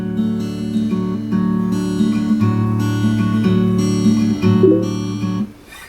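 Acoustic guitar fingerpicks a steady arpeggiated pattern, bass notes and higher strings rolling evenly for several seconds, close and alone with no talk, fading at the end.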